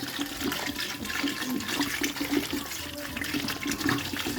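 Water pouring steadily into a cooking pot over pork ribs, a continuous close gushing splash with no talking.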